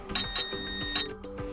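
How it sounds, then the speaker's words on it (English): Alarm tone from a Nokia 8210 4G phone, played as a short electronic melody: a few bright, close beeping notes over roughly a second, then stopping. "click on alarm tone to pick a perfect song for your alarm from music, alarm or ringtones"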